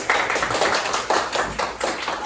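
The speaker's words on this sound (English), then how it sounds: "Clap your hand for your friend." Classroom pupils clap their hands for a classmate during an indigo fabric dyeing lesson, a loose run of close, sharp claps repeating across the whole moment at steady loudness.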